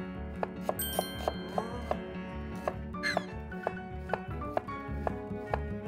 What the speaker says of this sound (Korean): 그다음에 양파를 썰고요